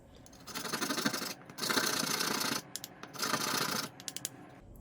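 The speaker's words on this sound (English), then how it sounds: "So you grate your nutmeg and it's looking so beautiful." Whole nutmeg is rasped against a grater in three sustained scraping strokes, close and clear, with short gaps and light taps between the strokes.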